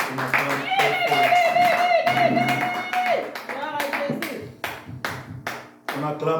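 A church congregation at a Sunday service in Montréal claps in acclaim, a run of sharp, rhythmic claps under loud voices and singing.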